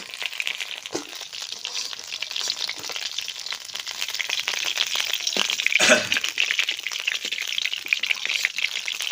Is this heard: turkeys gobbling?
no